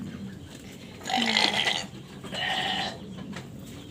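Sheep bleat in a pen on a farm, two drawn-out calls standing out clearly over a quiet background, each lasting about a second.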